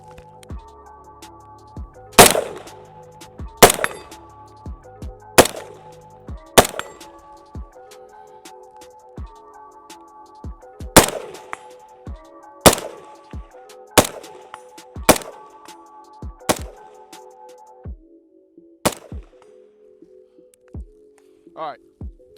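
A Salient Arms Grey pistol fires about a dozen sharp, loud shots at an uneven pace, each crack standing alone with short gaps between, over a faint steady hum.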